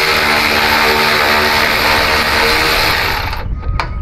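A wrench breaks loose a 13 mm nut on an 80 Series sway bar with a loud, dense mechanical buzz. It holds steadily for over three seconds, then cuts off with a couple of short clicks.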